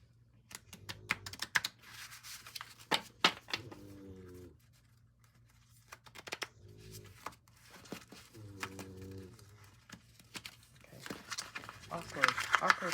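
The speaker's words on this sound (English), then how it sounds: "Let's shuffle them." Creative mojo cards, oversized art-prompt cards, are shuffled by hand in a series of quick papery riffles and taps, close and moderately loud, with a person talking between bursts.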